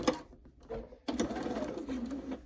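A sewing machine stitches quilt pieces in short bursts, a brief start, a pause with soft handling noise, then a longer close run of rapid needle chatter that slows toward the end; no talking.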